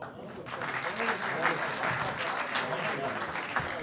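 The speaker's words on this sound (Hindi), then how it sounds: "ज़ोरदार तालियां जनाब आशू मिश्रा साहब के लिए" Loud, sustained audience applause at a mushaira poetry gathering during a literature festival, a dense wash of many hands clapping steadily for several seconds, with a voice briefly audible beneath it.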